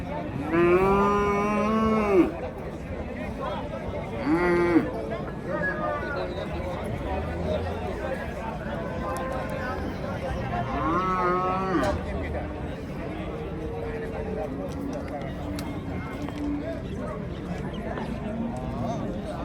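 Calves of about five months to a year bellow in repeated long moos at a busy Uzbek livestock market, loud and close, while a crowd of traders chatters steadily underneath.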